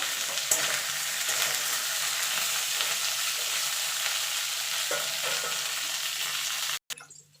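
Continuous crackling sizzle of ginger frying in oil with drumsticks, potatoes and eggplant, steady and close, with occasional stirring, cutting off abruptly near the end.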